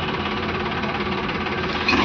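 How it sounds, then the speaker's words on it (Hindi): A Piaggio Ape BS6 three-wheeler with a starting problem, its self-starter cranking steadily in a dense, rattling churn without the engine catching, close and continuous. "तो ये सेल्फ लगा रहे हैं गाड़ी को"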